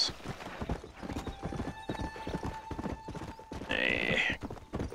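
Steady horse hooves clip-clop in a brisk rhythm in the video game Red Dead Redemption, with a short whinny near the end and a thin electronic tone humming underneath.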